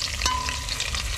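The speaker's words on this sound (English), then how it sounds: "The ginger and the pepper. Make them go and fry out," Ginger and pepper fry in a pan over an outdoor fire, a steady close sizzle with a soft stir and clink of a utensil early on.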